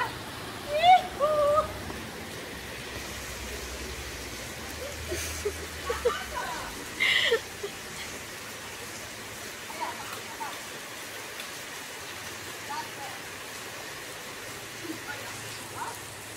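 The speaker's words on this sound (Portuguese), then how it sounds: "Vamos tomar um banho de chuva!" Steady rain pouring down outdoors as children bathe in it, a constant hiss of falling water with occasional louder splashes and distant shouts, voices speaking faintly over the downpour.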